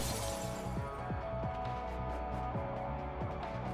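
Glass from a ceiling light shattering in the Punishing Gray Raven video game, heard as repeated crashing and tinkling bursts over a steady, dense game soundtrack.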